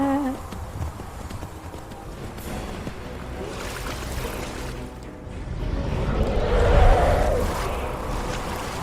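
Horse hooves clip-clop in the video game Skyrim as the horse moves toward and into water, a steady rhythmic trot with splashing rising near the end, with faint game ambience underneath.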